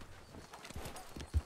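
Horse hooves clip-clop in the RedM western game, a few soft steps that end in one sharper thud, all faint and heard alone.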